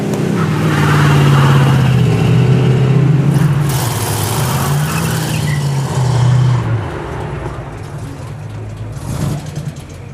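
A car engine is revved hard while the brake is held, a loud sustained roar that rises and falls, with voices talking over it.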